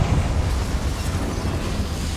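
A Confringo fire spell explodes in the video game Hogwarts Legacy, heard as a sustained, roaring blast with a heavy low rumble that holds steady and loud for about two seconds.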